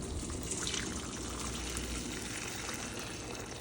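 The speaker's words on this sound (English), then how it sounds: "we're going to pour it in the bucket with the chain" Boiling water pours into a bucket holding a bike chain during re-waxing, a steady splashing, trickling rush heard up close for a few seconds.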